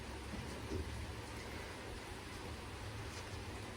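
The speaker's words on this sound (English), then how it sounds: "Maybe you can hear the rain." Steady rain falling outside, a dense even hiss of drops with no pauses.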